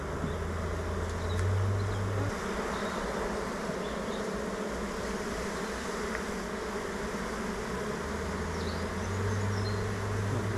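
Many honeybees hum in a thick, continuous drone close by, with a deeper buzz swelling in and out over the steady hive murmur.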